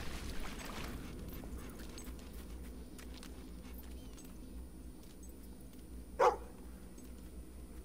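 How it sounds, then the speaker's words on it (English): A single short dog bark, sounding hurt, from the video game Fable 2, rising briefly out of a quiet low ambient hum late in the clip. "Dog got injured."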